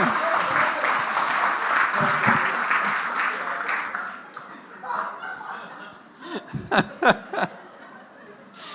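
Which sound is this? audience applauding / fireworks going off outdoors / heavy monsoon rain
audience applauding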